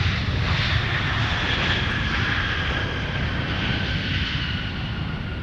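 Airplane taking off at Minneapolis–Saint Paul airport, a loud, continuous engine roar that holds steady and fades only slightly, with no voices.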